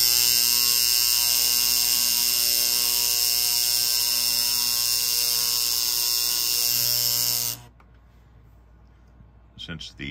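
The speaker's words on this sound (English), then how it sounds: "You can see the vibrator motor underneath, electrical roller pickups, and it's grounded through the wheels." Loud, steady electric buzz of the vibrator motor in a postwar Lionel 3444 animated gondola toy train car from 1957-59, running with a constant hum, then cutting off abruptly, followed by faint clicks.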